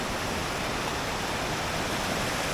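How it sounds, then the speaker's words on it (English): Flood water from a stream that has burst its banks, running out the side and down a field: a steady, loud, unbroken rush of water heard up close. "The river there's burst its bank, coming out the side. Another one there, coming down the field."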